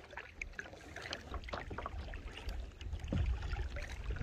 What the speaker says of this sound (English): We're just paddling.